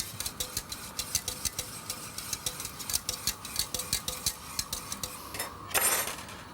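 A cream mixture seasoned with salt, pepper and nutmeg is stirred in a pan, giving a steady run of close, rhythmic scraping and clinking of utensil against metal, with a louder rustling scrape near the end.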